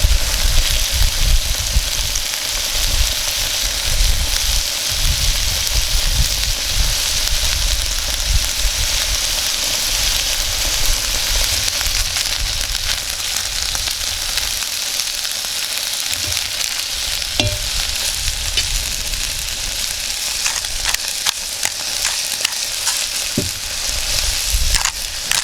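Ham fries in a hot pan with a loud, steady sizzle that holds unbroken throughout, joined by occasional small pops and scraping stirs, with no one talking.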